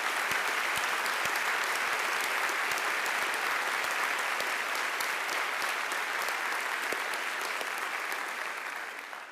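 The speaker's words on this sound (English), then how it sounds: "Let's give them another round of applause." A large audience applauds award winners at a university day ceremony, even sustained clapping at moderate level that begins to fade near the end, with no talk over it.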